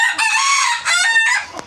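A young desi rooster crows close by, a loud drawn-out call in a few bursts with brief gaps, alone with no talk over it.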